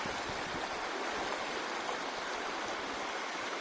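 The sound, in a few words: river water flowing on the Steel River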